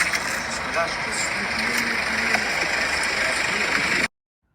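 A car engine idles in a steady, continuous broadband rumble that holds evenly for about four seconds, then cuts off abruptly into silence.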